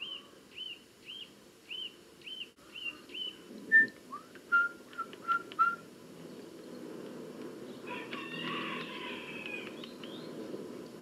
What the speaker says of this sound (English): that is the nuthatch, isn't it?